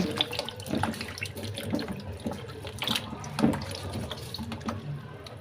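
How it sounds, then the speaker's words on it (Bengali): Eggplants are washed under a running kitchen tap, with a steady stream of water splashing over them and irregular sloshing and handling noises close by throughout, and no talk. "এই কারণে বেগুনগুলো ধুয়ে নিচ্ছে"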